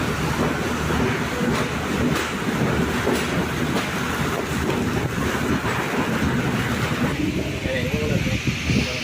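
Night mail train pulling out of Colombo Fort station in heavy rain, a steady broadband rumble of rolling wagons and downpour running throughout, with voices faintly mixed in.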